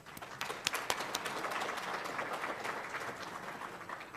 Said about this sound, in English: so we all applaud your heroic efforts and congratulate you